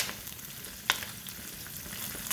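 Garlic fries in a pan with a steady close sizzle, broken by a few sharp pops and a brief louder crackle, no talking.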